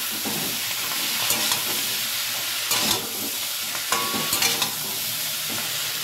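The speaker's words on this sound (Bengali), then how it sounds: "সবজিগুলো 1-2 মিনিট একটু ভাজা ভাজা করে নিলাম।" Cauliflower stalks tossed with ground coriander, ginger-green chilli paste and a pinch of sugar, stir-fried in a pan; a steady close sizzle fills the scene with repeated scraping stirs of a spatula.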